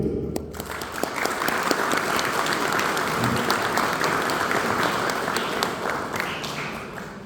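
Steady audience applause at a cultural music evening in Pedro Juan Caballero, greeting a guitarist's performance; dense, continuous clapping from a sizable crowd that holds at an even level throughout, with no voices over it.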